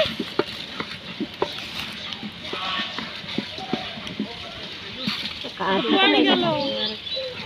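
Rice tipped into a pan of lightly browned potato and tomato and stirred, with frying sizzle, utensil taps and scrapes, and voices talking nearby, outdoors at a picnic cook-up.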